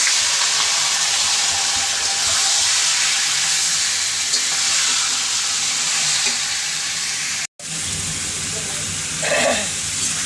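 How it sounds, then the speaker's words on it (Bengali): Chicken pieces and onions sizzle steadily in a kadai, a dense, loud frying hiss that runs throughout with a brief cut near the end, stirring scrapes mixed in. "পেঁয়াজ দিলাম, মাংসটা এখন দিয়ে দিব কড়াইতে।"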